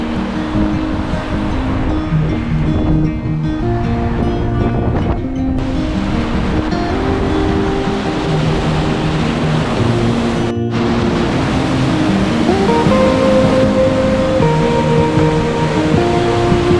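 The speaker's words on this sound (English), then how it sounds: "River's a bit high in Keswick today." A high river rushes through Keswick in a steady, loud, broadband roar that lasts throughout, with wind buffeting the microphone and no one speaking.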